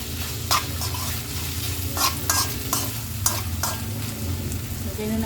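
Squash fries in a pan under a steady low sizzle while a utensil stirs it, scraping and clinking in irregular strokes, close and moderately loud, with no voices.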